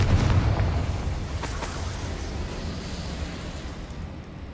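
A Confringo spell explosion in the video game Hogwarts Legacy: a loud, deep, rumbling blast that starts at once and slowly fades over several seconds, with no voices.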